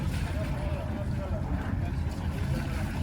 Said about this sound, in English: They're running their engines anyway.